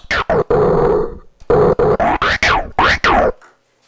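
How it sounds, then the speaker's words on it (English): Rapid, choppy bursts of a pitch-bent sample sweeping up and down, stuttering like turntable scratching, loud and close, ending abruptly. "that creates your scratching sound"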